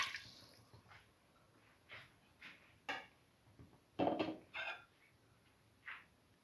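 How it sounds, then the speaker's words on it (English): Spoonfuls of water drop into a cooking pot for a cinnamon split pigeon pea stew, a few separate soft splashes and light clinks spaced a second or so apart in a quiet kitchen. "Put in 2 spoons of water."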